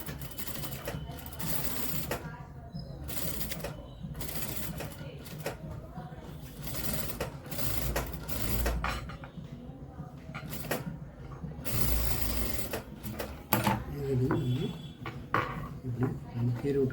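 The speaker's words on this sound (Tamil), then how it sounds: "ஒரு மேல் ஸ்டிச் ஒன்று போட்டுக்கலாம்" A sewing machine top-stitches a blouse lining in short bursts of rapid mechanical clatter, stopping and restarting several times, while someone talks in between and over the runs.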